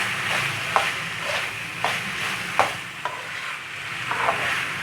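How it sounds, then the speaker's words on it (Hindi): Minced beef with finely chopped green onions is stirred in a pan over low heat, with a soft continuous sizzle broken by repeated scraping strokes of a spatula every second or so, close by with no voices. "अब हम इसको अच्छे से मिक्स कर लेंगे"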